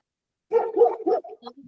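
A dog barks several times in a short burst, a few close mid-pitched woofs trailing into softer yips, heard alone against silence.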